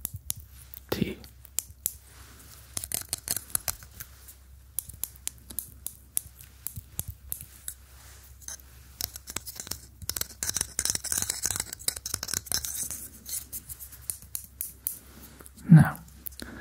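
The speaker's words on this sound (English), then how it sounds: "we have our wooden grabbers here. Perfect for grabbing tea." Wooden tongs picking up loose tea in an ASMR tea-shop roleplay, giving soft, close, scattered clicks and rustles, with quiet whispering faintly underneath.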